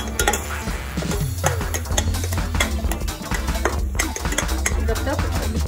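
A spoon scrapes and clinks against a metal pan as pointed gourd curry with turmeric is stirred, giving repeated close, fairly loud scraping strokes and clatters with no talking.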